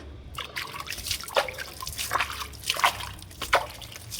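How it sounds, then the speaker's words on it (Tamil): Water splashes and trickles onto potted plants in a rooftop garden, with irregular pattering bursts and dribbles heard up close and no voices. "இப்போ நம்ம வந்து தண்ணி ஊற்றி விட்டுறணும்"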